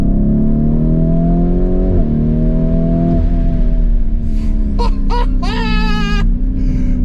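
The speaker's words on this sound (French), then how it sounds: "Quelle voiture! Quand le turbo il rentre, frérot! Ah ouais, c'est violentissime!" A powerful turbocharged sports car accelerates hard with the turbo kicking in, its loud engine roar climbing steadily and briefly dipping at gear changes, while short excited shouts break in near the end.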